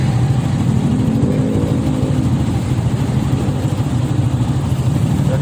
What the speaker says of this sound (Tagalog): Yung traffic talaga yan guys,